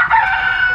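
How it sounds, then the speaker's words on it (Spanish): A rooster crows in one loud, sustained call, close by at a large camper gathering in Baja California Sur, Mexico. "Es el que nos despierta todos los días con el sonido del gallo."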